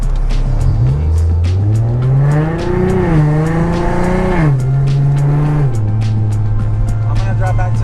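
An Infiniti G37 sedan with a VR30 engine swap pulls away, its engine revving up through several rising and falling pitch sweeps before settling into a steady drone, close and loud with no talking.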